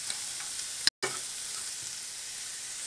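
Chopped onion sautés in a pan for a potato sandwich filling, a steady soft hiss of frying with a brief stir and a momentary cutout partway through, heard alone.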